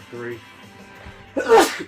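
Someone speaks a single short word, then a loud, sharp sneeze bursts out close by near the end.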